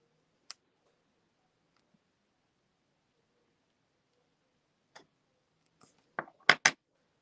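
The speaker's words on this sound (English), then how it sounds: "I did just cut the seal on that Deadfire with fingernail clippers." Fingernail clippers snip through the seal on a Fortnite trading card sleeve, giving a few sharp, close clicks: a single snap early on, then a tight cluster of louder cuts near the end, with near silence between.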